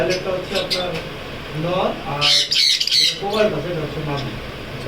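Lovebirds and conures, including sun and green-cheek conures, squawk in loud, busy overlapping bursts, with a sharper cluster of shrill calls near the middle, while someone talks over them throughout.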